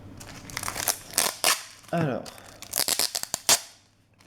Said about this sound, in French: Désolé pour le bruit de scotch.